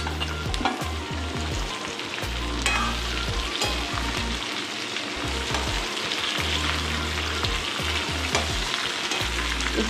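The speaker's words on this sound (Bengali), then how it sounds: "এটা একটু ভাজা হোক" Peeled, cut drumstick (katwa data) stalks fry in a pan with a dense, continuous sizzle and crackle, punctuated by low rhythmic knocks from stirring. No voices.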